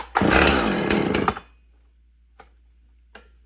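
A firewood-cutting chainsaw roars loudly for about a second and a half after a pull start, then cuts out, leaving near silence broken by two faint knocks.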